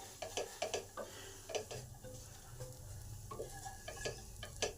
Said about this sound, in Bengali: এই মশলাগুলোকেও এই ডালের সাথে একটু ভালো করে নেড়ে নেব